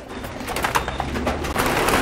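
Pigeons coo inside a farm loft, soft repeated throaty calls rising and falling at close range over a steady low background hum.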